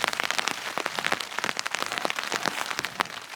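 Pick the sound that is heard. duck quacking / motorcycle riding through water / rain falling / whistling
rain falling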